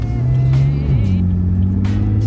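Nissan GT-R engine revving up close, a deep loud rumbling drone that swells and shifts pitch between blips of throttle, continuous for the whole stretch with no voices.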